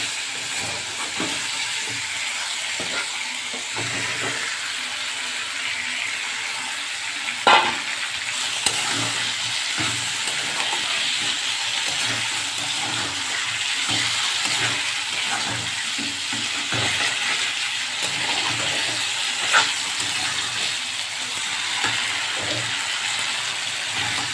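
Chicken curry with potatoes and chopped green chillies frying in a pan, a steady loud sizzle and hiss with repeated scraping stirs throughout, no voices.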